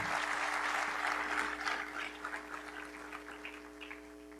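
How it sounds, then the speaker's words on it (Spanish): A university auditorium audience applauds for the rector of the Universidad de Cundinamarca, with steady, fairly distant clapping over a faint electrical hum that tapers off over about four seconds. "A todo el auditorio pido también un sentido aplauso para el rector de la Universidad de Cundinamarca"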